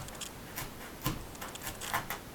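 Several faint, sharp crunching pops in an uneven sequence as a craft stamp punches through card, heard close up in a quiet room.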